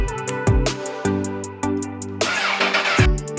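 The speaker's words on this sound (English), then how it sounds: "So listen to this engine when you crank it over." A motorcycle engine of unknown make being cranked over, a loud mechanical whirring with repeated uneven surges about every half-second to second, rough and close, with no voices.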